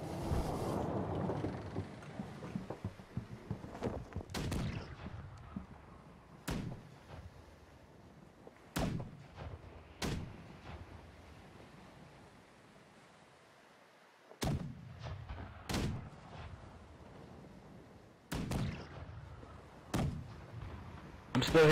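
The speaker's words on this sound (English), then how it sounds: "Cannons are prepared to fire!" Ship cannons fire in the naval video game Blackwake, a run of sharp booming blasts spaced irregularly over about twenty seconds, some in quick pairs, over wind, creaking sea ambience and faint voices.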